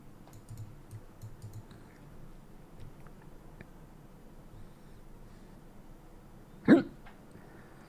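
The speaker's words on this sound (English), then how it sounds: "A hiccup." A single sharp human hiccup bursts out near the end, loud and close, after a stretch of quiet room tone with faint small clicks.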